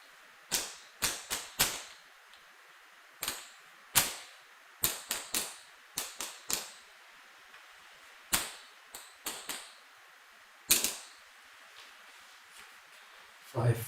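Craps dice thrown in live practice, each roll giving sharp clattering bursts that come in quick irregular clusters with short gaps between throws, loud and close.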